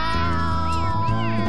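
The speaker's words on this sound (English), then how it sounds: "I definitely heard someone say meow." A cat meows in a drawn-out, wavering cry over steady background music.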